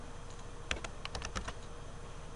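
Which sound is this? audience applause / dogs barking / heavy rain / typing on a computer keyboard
typing on a computer keyboard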